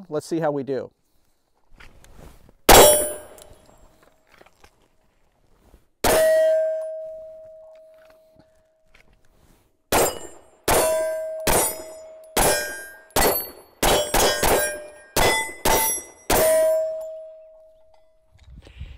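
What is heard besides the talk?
Sig P320 X5 pistol shooting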